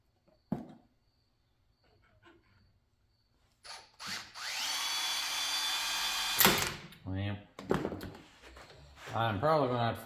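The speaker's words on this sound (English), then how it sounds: "And then we will try to drill it as straight as we can." A power drill bores a hole in metal during a truck power-steering install, a loud steady whine lasting a few seconds after a sharp tap, with someone talking briefly afterward.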